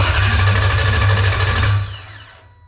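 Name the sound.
Toyota 3UZ V8 engine cranking over in Lexus IS300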